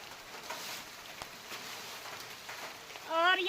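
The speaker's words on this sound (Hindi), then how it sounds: "और बारिश भी लगातार लगी हुई है" Steady rain patters and hisses continuously on surfaces, soft and even, with a brief voice breaking in at the very end.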